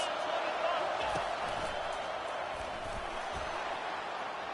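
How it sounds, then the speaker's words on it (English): Steady broadband crowd roar fills a stadium in the NCAA College Football 25 video game during an Oregon Ducks versus LSU matchup, swelling on a big third down, with faint thumps and a commentator's voice under the noise. "Big third down as the crowd gets behind this defense."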